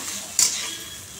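Onions, kalonji and capsicum frying in a home kitchen pan, a steady soft sizzle with a brief sharper clatter of a utensil near the start.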